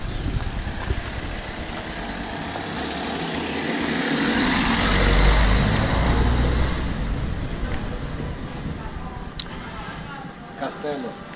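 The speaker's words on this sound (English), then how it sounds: "I hear a car coming though." A car approaches along a street in Naples, Italy, its engine and tyre noise swelling to a close pass midway and then fading, over steady city traffic hum and general street ambience.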